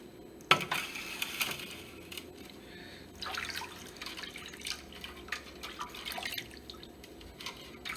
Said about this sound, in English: Now I'm going to wash my hand.